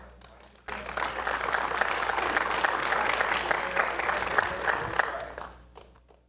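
Members at a community theatre's annual meeting give a round of applause, a full dense burst of clapping that starts abruptly, holds steady and loud for several seconds, then tapers off, with faint voices before and after.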